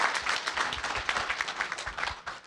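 An audience at a retired teachers' spring meeting claps steadily in a room, a dense and even burst of applause heard near and fairly loud for a couple of seconds.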